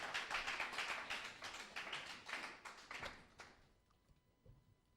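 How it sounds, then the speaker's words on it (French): A church congregation claps hands in a brisk, dense patter of many hands for about three and a half seconds, then the applause fades quickly into near quiet with a few stray taps, fairly soft overall. "Let's give him a clap of hand."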